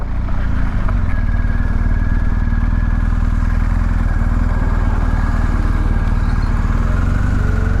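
A BMW R 1250 GS motorcycle rides off-road. Its engine drones steadily and loudly up close for the whole stretch, with a constant low rumble and some mechanical clatter, and no one speaks.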